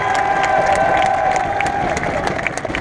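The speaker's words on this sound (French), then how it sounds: "Je vous demanderai d'applaudir Aaron Wills Fotheringham" A large outdoor crowd at a Nitro Circus live show in Tours claps and cheers for wheelchair rider Aaron Wheelz Fotheringham, a loud dense wash of applause with shouts and whistles throughout.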